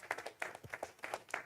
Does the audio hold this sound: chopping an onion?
no